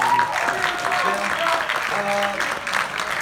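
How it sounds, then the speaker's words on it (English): An audience claps for a volunteer after a static electricity demonstration at the Ontario Science Centre. The applause is short and fairly steady, with voices and other sounds mixed into the room noise. "let's give you a round of applause"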